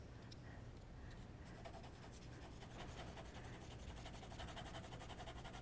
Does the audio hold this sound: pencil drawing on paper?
yes